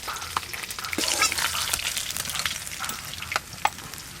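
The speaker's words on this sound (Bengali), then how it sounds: "এই মাছগুলো ভাজা হয়ে গেল, তুলে নেব এবার।" Pond fish finish frying in hot oil, a dense, steady sizzle close by, broken near the end by a couple of sharp utensil clacks.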